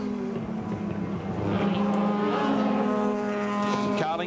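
Sports sedan race car number 14, the race leader with about 300 brake horsepower, passing at Amaroo Park Raceway in 1986: a loud, sustained engine roar rising in pitch, with other cars' engines under it.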